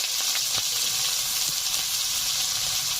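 Bay leaf, dried red chillies, whole cumin and chopped onion sizzling in hot mustard oil for village-style aloo dum, a loud, dense, continuous hiss with a few faint pops and crackles, close and without speech.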